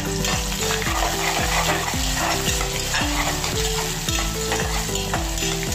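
Finely chopped onion and peanuts fry in a pan, loud continuous sizzling broken by a steady rhythm of stirring scrapes roughly every half second, close and without voices.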